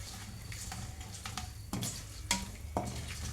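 A spoon scrapes and stirs through an amla pickle mixture mixed with ground mustard-fenugreek powder in a bowl, several distinct sharp scrapes at irregular intervals over a soft wet background, close and clear.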